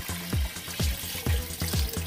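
Water poured into a cooking pot of soup with tofu and pork, over sweated garlic, runs as a steady close splashing stream with a few louder gulping surges through the pour.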